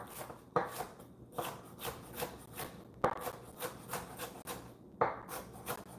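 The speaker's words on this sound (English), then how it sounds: "So chopping that as well." Small, crunchy peppers are chopped on a cutting board, with a regular series of crisp knife strokes landing in quick bursts, close and clear, with no talking.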